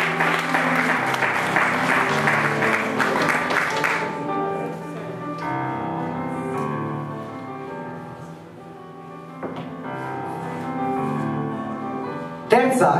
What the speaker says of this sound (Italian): Applauso ancora a questa poesia.